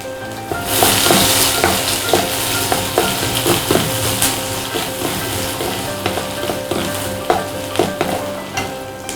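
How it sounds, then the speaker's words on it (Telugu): Garlic and onions fry in hot oil for chilli chicken, giving a steady, close sizzle throughout. Soft scraping stir strokes recur at an even pace, and no one speaks. "వెల్లుల్లిపాయలు కొద్దిగా ఫ్రై అయ్యాక ఉల్లిపాయలు వేసుకోండి."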